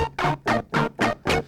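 Five harsh, buzzing pulses from a Waldorf Blofeld synthesizer's "Ring Steps" patch repeat in an even rhythm, each a short gritty burst separated by brief gaps, loud and alone.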